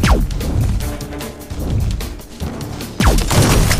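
Cannon fire in the video game ONRAID: a loud, booming discharge at the start and another at about three seconds, with dense crashing and thudding blasts filling the space between them.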